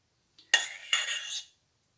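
A spoon clinks against a mold while dropping grained praline into each cavity, two quick metallic taps followed by a short scraping rattle, close and quiet.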